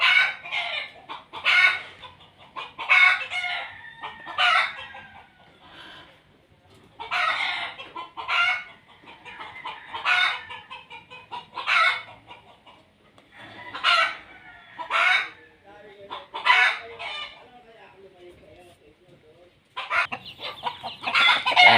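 Hens in a backyard chicken coop cluck and squawk in repeated bursts separated by short quiet gaps, fairly close and lively, with no talking.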